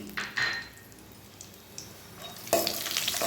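Ground almonds and cashews roasting in a pan: soft scraping and stirring strokes, followed by a louder burst of clattering, sizzling pan noise near the end.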